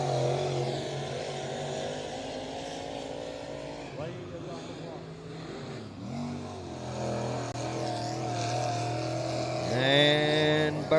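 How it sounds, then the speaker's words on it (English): A sportsman late model race car runs laps during time trials at a Tennessee speedway, its engine droning and revving from a distance under steady commentary from an announcer. "Sportsman late model on the racetrack for their time trials."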